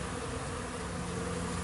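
Honeybees from a backyard colony buzzing around feeders on a warm day, a steady, dense hum that holds even and unbroken throughout, with no voices.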